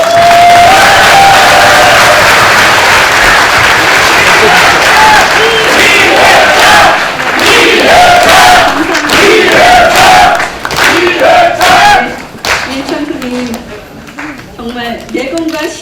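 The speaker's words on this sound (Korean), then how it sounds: "다시 한번 큰 박수 부탁드립니다." At a Korean political endorsement event, the audience breaks into loud applause and cheering that holds for several seconds and then thins out as someone speaks over the dwindling clapping.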